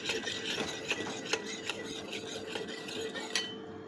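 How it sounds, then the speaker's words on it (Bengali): A spoon stirs a cornflour mixture in a bowl for mango pudding, with quiet, steady scraping and rubbing strokes and a few sharper clicks against the bowl, close by and unaccompanied by talk. "সুন্দর করে কর্নফ্লাওয়ারটাকে গুলে নেব।"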